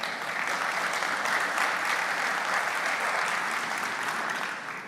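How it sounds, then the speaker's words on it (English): A room full of executives at a business symposium breaks into a steady, dense round of applause that holds evenly and then tapers slightly at the end. "Round of applause."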